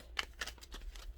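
A Gilded Tarot card deck being shuffled, a few quick papery riffles in a short burst, quiet and close with no speech.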